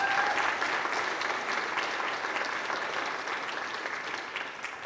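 Conference audience at a 2018 food bank partner agency event gives a sustained round of applause, dense and steady, slowly tapering toward the end with no voices on top.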